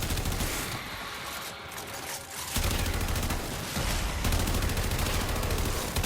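An AK-47 is fired in the video game Warframe, with dense sustained bursts of automatic gunfire that run almost continuously and loudly, with brief shifts in intensity and no talk.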